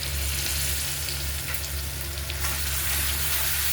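Paneer masala curry fries in a pan with a steady, close sizzle throughout, a continuous bubbling crackle with a few sharper pops and no talking.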